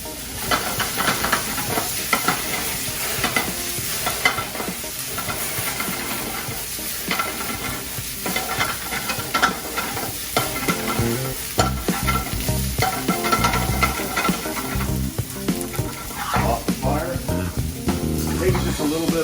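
Broccoli sizzling and hissing in olive oil in a hot pan, stirred steadily with continuous scraping and frying crackle, loud and close, with a voice speaking over it.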